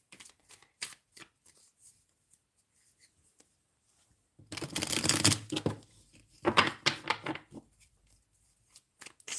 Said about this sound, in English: let's draw cards for pile number 1